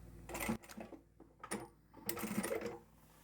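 Sewing machine stitching a small fabric pouch, a card and cash holder, in short mechanical bursts of rapid needle clatter separated by brief pauses, quiet and close.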